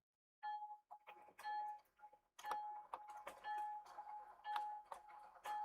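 Repeated ringing of the bell on an RS3 model train locomotive fitted with the Protosound 3 sound system, a steady clanging pattern that rings on and off, close and fairly loud.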